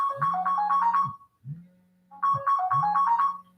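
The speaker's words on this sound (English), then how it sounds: "That's my phone ringing. It'll stop in a second." A mobile phone ringtone plays in a loud repeating melodic phrase that breaks off briefly, gives a short low hum, then starts again, close by and without talk.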